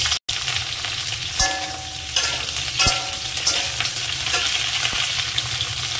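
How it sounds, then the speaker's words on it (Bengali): Cauliflower florets fry in hot oil for a vegetarian paneer and potato curry, a steady close sizzle and crackle with occasional stirring clinks. "এই তেলের মধ্যে এবার ফুলকপি কটাকে ভেজে নেব।"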